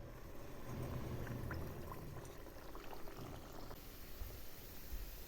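Malpua batter fries in hot oil in a kadai, giving a soft, continuous bubbling and gentle crackle that stays faint and even throughout.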